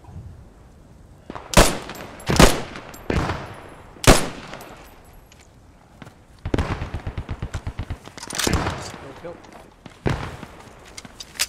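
Loud bursts of gunfire in a shooting game: sharp single shots, then a rapid automatic volley and more scattered cracks, with players talking between them.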